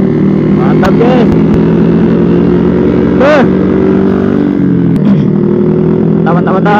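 A Honda Revo motorcycle rides fast on a road during a group ride, its engine droning loudly and close with rising and falling revs, while a rider talks over it.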